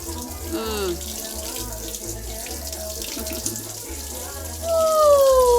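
Water runs steadily from a tap into a bath, a constant close splashing rush with voices and a child's high calls over it, growing louder near the end.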